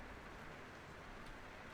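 Steady rain in the Enderal Skyrim mod, a soft, even hiss of falling drops with no distinct events, faint and continuous throughout.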